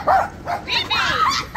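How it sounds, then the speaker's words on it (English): A distressed dog barks and whimpers in short bursts amid lively talk and shouting at a twins' party, the yelps rising and falling over several quick calls. "The dog's so upset."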